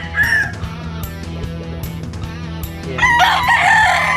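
Yellow-legged hatch gamefowl stags of a Wild Creek line crow loudly nearby, with clucking and other birds around them. A short spoken word is heard briefly.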